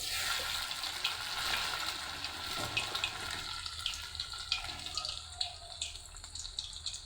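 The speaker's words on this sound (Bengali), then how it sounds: "এখন আমি কড়াইয়ে এরকম এরকম করে একটা করে বানাই ছেড়ে দেব।" Pakoras frying in a broken kadai, a continuous bubbling, watery sizzle that rises and falls, with small crackling pops growing more frequent toward the end.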